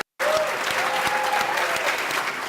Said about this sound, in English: If you would give them a rousing round of applause.